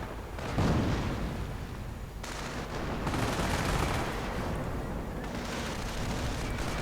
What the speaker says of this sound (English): Rifle and heavy machine guns mortar moving in.